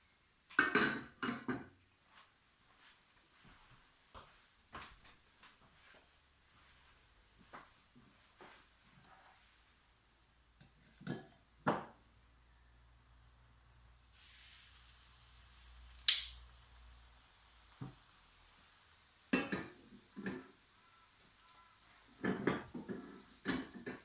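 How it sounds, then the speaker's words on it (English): A small metal pan clatters and clinks as it is handled, with scattered knocks and scrapes at irregular intervals, fairly close. "I'm going to use just a small frying pan."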